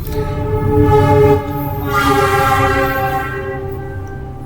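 A train rumbles past close by with a loud, steady horn-like tone layered over the rolling noise, fading slightly toward the end.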